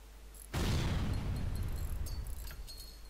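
Ship weapons fire and explode in the FTL space game: a sudden heavy boom breaks in and rolls on as a dense, loud, rumbling blast that slowly thins out, with faint electronic tones above it.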